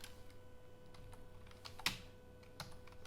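Quiet keystrokes on a computer keyboard while entering a search in a WordPress plugin page, a few soft scattered clicks with one sharper tap, faint and close against a low steady hum.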